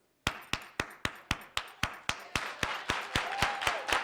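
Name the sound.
soul clap, a high-paced rhythmic hand clap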